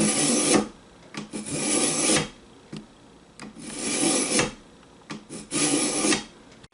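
A metal file rasps in long, even strokes against a lawn mower blade, each pull a scraping burst followed by a short pause, repeated about five times close up.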